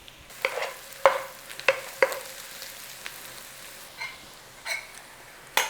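Bacon hash stirred in a frying pan, a spoon scraping through the sizzling mix in a handful of distinct strokes over a steady low fry, close and fairly quiet.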